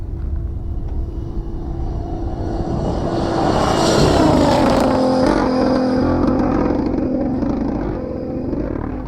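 An Audi Dakar Rally car, with a 2-liter turbo DTM engine and two electric motors held at about 5000 rpm, drives past a spectator on a Dakar 2025 stage. Its loud, steady droning note swells and shifts in pitch as it passes, then fades.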